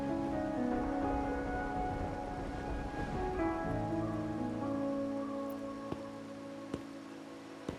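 Steady video game rain patters softly on a surface, with a low musical tone underneath and a few sharp drips standing out near the end.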